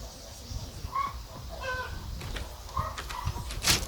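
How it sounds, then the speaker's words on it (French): Hens cluck and squawk intermittently in the background of a countryside village yard, faint and scattered over low ambient noise, with a louder sharp call near the end. "Comment la vidéo avec les poules qui gueulent en arrière-plan?"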